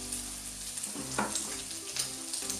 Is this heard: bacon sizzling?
yes